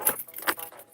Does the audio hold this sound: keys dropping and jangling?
yes